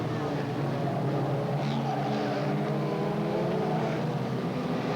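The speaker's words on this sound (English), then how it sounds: "And here comes the lead car" Race cars at Bolton Auto Speedway roar in a steady, continuous engine drone with a faint pass-by swell, heard from trackside throughout.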